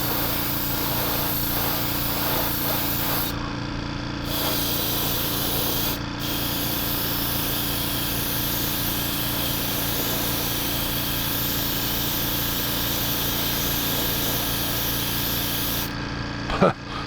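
Steady, continuous hiss of an aerosol or airbrush spraying matte clear coat over a Revell 1/700 Colombo Express container ship model, close and loud, with brief pauses in the spray and no talking.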